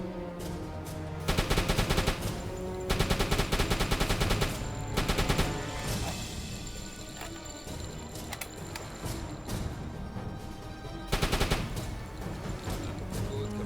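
A U-boat deck gun fires high-explosive shells in a submarine game, repeated bursts of loud sharp reports in several clusters over a continuous rumbling background, no talk.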